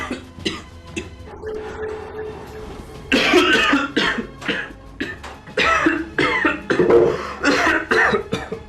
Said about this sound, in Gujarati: કેમ આટલી બધી ઉધરસ કેમ આવે છે તમને?